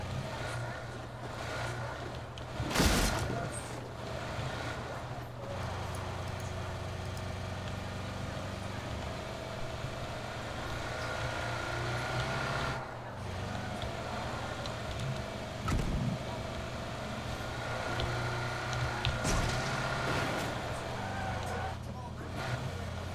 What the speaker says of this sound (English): Get in the car. I'm gonna drive us around.